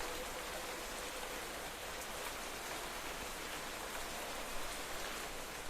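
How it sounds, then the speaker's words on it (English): Rain pours in the video game Minecraft, a continuous, full broadband wash of falling water that holds steady and loud from start to finish, with no speech. "The rain is still pouring."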